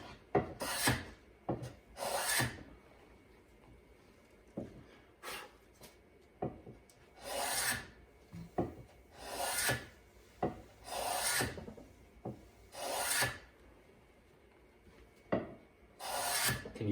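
Hand-shaping the beveled outer edge of a wooden rocking stool seat, a close rasping of file or rasp strokes on wood repeating in an irregular rhythm of short and longer passes, moderately loud, with no talking.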